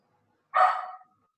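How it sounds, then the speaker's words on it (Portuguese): A single dog bark or yip cuts in briefly, loud and close, during an online talk, with no speech around it. "Desculpa, tem um cachorro aqui. Ele quer participar."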